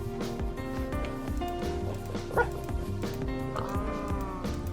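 Dogs barking and yipping in Minecraft, with short, close barks over game music.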